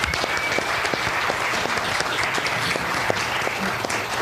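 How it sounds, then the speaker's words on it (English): A crowd applauding steadily at a political forum, dense continuous clapping that stays loud and even throughout. "please give all of these people a big round of applause"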